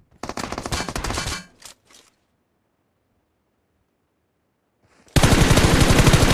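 Automatic gunfire in the mobile battle royale game BGMI, a loud rapid burst at the start with a few trailing shots, then silence, then another heavy sustained burst at close range.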